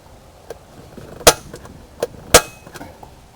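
Metal taps from a center punch mark hole positions through a drilling template during an Instant Air System install on a Can-Am Spyder: a few light taps and two sharp, loud strikes, close by.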